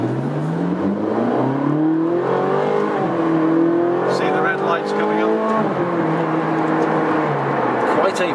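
A Ferrari 458 Speciale engine climbs hard through the revs with a sharp upshift partway, the rising harmonic whine continuing close and loud beneath a voice.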